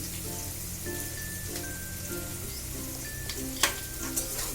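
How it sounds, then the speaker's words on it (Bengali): Chopped onion and green chili fry in oil in a pan for an egg curry, a steady dense sizzle throughout with a couple of brief stirring clinks near the end, no voices. "পেঁয়াজটাকে আমি একটু ভালো করে ভেজে নেব।"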